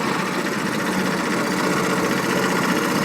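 A road roller's engine runs steadily at mid-range revolutions, a continuous close, loud throb with a rough, slightly knocking vibration and no voices.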